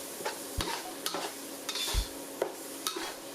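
Frying paste for Malaysian mee bandung shrimp noodle soup sizzles in hot oil with sugar while a utensil scrapes and stirs it in short, irregular strokes, close by.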